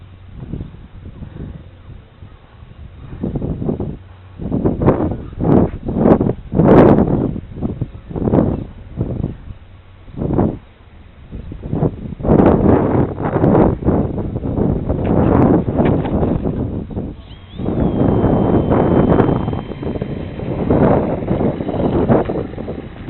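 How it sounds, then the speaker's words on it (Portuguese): Strong wind buffets the microphone outdoors during a low-wing model airplane flight, coming in loud rushing gusts and roars that rise and fall across the clip, with a faint motor hum underneath. "O vento joga ele, Vai Adriano."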